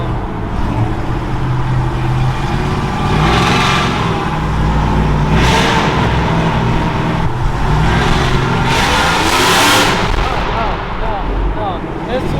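A pickup truck engine revs at about half throttle, loud and close, with repeated surging bursts of roar over a rumbling idle.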